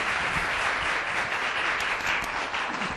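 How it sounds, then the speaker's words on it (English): An audience at a speaking event breaks into sustained, dense applause to welcome someone speaker, a steady even wash of clapping filling the room for the whole stretch with no talk over it. "please give her a round of applause"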